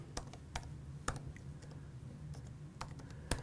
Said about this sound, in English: I'm actually gonna type Sabre